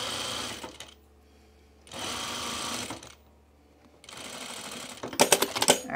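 A sewing machine stitches a button-down shirt in three sustained bursts of rapid, even whirring, each about a second long and separated by quiet pauses. A flurry of sharp mechanical clicks and rattles follows the last burst.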